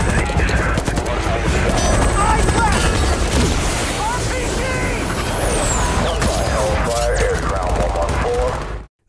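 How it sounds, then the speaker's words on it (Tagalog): Dense gunfire bursts from a military shooter video game, with a helicopter under attack, rattling loud and continuous alongside chaotic effects and music for about nine seconds before cutting off. "Biglang putok ulit, nabaril ang helikoptero."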